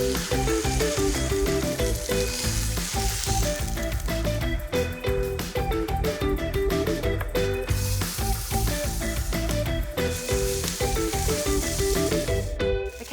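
Lamb shoulder pieces frying in a pan, caramelised, with a loud steady sizzle running the whole time and a few faint stirring clinks, close up, with no talking.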